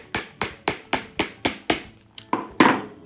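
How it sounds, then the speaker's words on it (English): Light hammer taps strike a boot shank over a last in a steady rhythm, about a dozen blows close up, with the last few landing a little harder. "What you want to do here is some gentle hammering"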